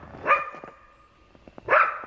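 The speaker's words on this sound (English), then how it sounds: "we'll feed about 50 dogs" Dogs bark outdoors at a trapping camp, with two loud barks about a second and a half apart and fainter yips and whimpers between them.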